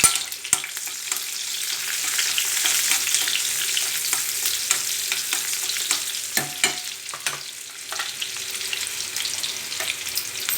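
Onions sizzle in a hot pan for an upma, a constant frying hiss broken by frequent sharp scrapes and clicks of stirring, close by and with no one talking.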